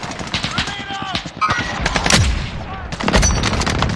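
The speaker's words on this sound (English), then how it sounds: "Friendly precision airstrike inbound." Gunfire and a precision airstrike in Call of Duty Warzone: rapid machine-gun bursts and loud shots throughout, with a booming blast of heavier impacts in the middle and a radio voice speaking over the din.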